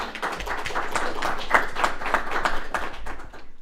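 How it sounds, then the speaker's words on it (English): Scattered hand claps from a meeting audience run steadily for a few seconds after a guest is introduced, fairly close and moderately loud, with no talking over them. "Let's give John a round of applause"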